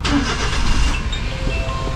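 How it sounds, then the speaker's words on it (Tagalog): A Suzuki Every Wagon engine cranks and catches on a cold start, then settles into a rough, loud rumble close by. "So start natin yung makina natin"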